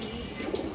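A large female pigeon coos softly in a low, rounded tone near the listener, with a short throaty burst standing above a steady background hum.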